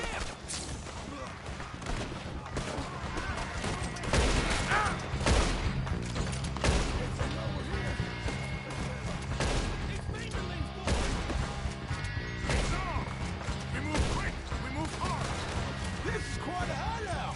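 Steady gunfire tears through a camp in Red Dead Redemption 2, dense overlapping shots and crashes over continuous game noise, with voices speaking throughout.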